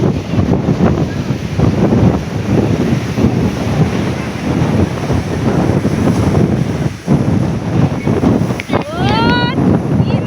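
Sea waves breaking on Digha beach: a constant roaring surf wash buffeted by heavy wind noise on the microphone, with people talking nearby.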